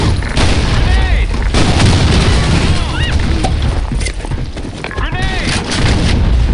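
Grenade blast and gunfire in the online shooter BlackShot during a clan war match, with dense, continuous rattling shots and booming impacts layered loudly over one another from start to finish.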